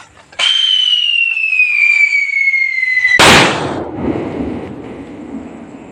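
A loud Atomik Whistle firework lets out a long, steadily falling shriek for about three seconds, then bursts with a sharp bang that trails off into crackling and rumbling debris.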